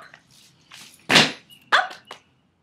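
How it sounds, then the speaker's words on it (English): A small dog gives two sharp, close barks about half a second apart, with faint softer yips before them in a quiet indoor room. "Contrary little doggy."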